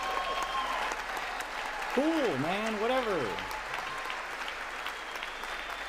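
Congress applauds during a State of the Union address, a steady faint wash of clapping heard from a distance, with a nearby voice talking over it briefly.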